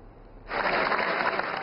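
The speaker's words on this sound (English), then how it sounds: "the U.S. President was welcomed with thunderous applause" Applause for the U.S. President arriving at the State of the Union, a large crowd's clapping swelling in suddenly after a quiet start and holding steady and loud to the end.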